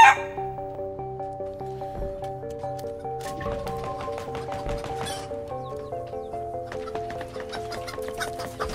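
Chickens cluck in short, irregular bursts as a sound effect over a steady musical backdrop, fairly quiet and without voices.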